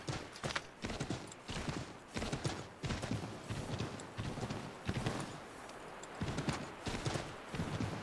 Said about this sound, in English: riding a horse into a tree.